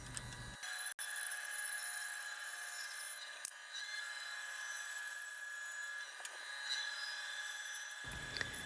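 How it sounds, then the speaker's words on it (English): Bandsaw cutting wooden boards into bed legs, a thin continuous whining blade tone with a few brief ticks and knocks as the wood feeds through, fairly faint and steady. "I'm going over to my bandsaw because it's quick and efficient"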